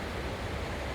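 Waterfall on a hiking trail, a constant broadband rush of falling water like white noise, steady and loud with no other sounds.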